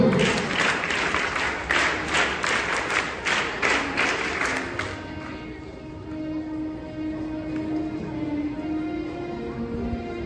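Rhythmic group clapping from a school audience at an investiture ceremony, several sharp synchronized claps in quick succession that stop midway, leaving quieter room murmur and faint sounds afterward.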